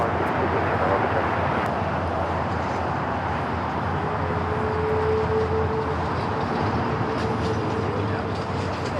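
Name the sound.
SAS Airbus A350-900 airliner landing at LAX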